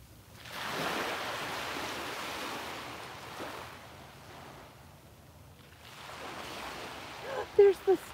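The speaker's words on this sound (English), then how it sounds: "soak in the colors and the sounds of the waves" Ocean waves wash in soft broad surges at an outdoor viewpoint, swelling and receding in slow cycles with some wind, and a few brief voice sounds near the end.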